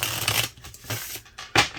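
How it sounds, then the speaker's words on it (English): A deck of tarot cards is shuffled up close. Brisk papery riffles and slides come in uneven bursts, ending in a sharp snap of cards, with no voices. "Let's shuffle."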